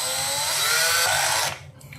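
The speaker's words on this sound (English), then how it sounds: "let's just go ahead and fully drill it." A power drill bores a hole through a racquet frame, whining loudly and steadily for about a second and a half before spinning down and stopping.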